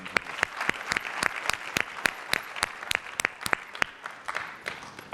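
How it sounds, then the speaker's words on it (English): Audience applause at a Mandela Washington Fellowship summit closing celebration, a brisk run of sharp claps from a modest crowd, steady and fairly close, carrying on for several seconds. "A round of applause for them."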